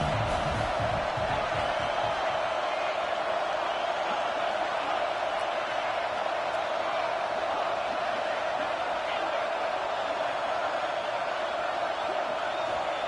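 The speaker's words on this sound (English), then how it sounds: "This crowd trying to make life miserable for this offense." A packed college football stadium crowd roars and cheers in a steady, dense wash of noise, loud and continuous, with a commentator talking over it.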